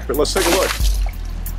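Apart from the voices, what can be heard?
water being thrown onto a boat deck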